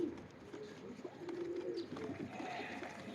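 A Teddy pigeon hen coos in low, soft, repeated throaty calls, faint and close, with light background noise.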